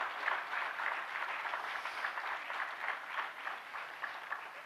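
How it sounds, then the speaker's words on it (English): A crowd at the 3rd NASTech event applauds for Lydian Nadhaswaram, producing dense, even clapping from many people that holds steady for several seconds without a break and with no speech on top. "give him a big round of applause and a shout out"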